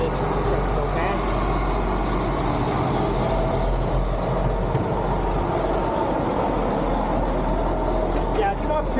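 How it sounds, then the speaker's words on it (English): A truck drives past on a road beside a hiking trail, a steady loud low rumble of engine and tyres filling the whole stretch with no clear rise or fade, heard close by. "Let's wait for this truck to go past."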